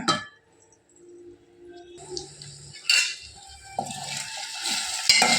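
Food in a lidded cooking pot is stirred, with quiet scraping and a few bright metallic clinks from utensil and lid that come close and louder toward the end after a near-silent start.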